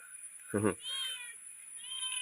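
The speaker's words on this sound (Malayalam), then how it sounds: "നമ്മുടെ പൂച്ചയുണ്ട്" A household cat lets out a single short meow near the mic, followed by a quieter drawn-out cry, set in a kitchen while Ayakkoora kingfish is being bought and cooked.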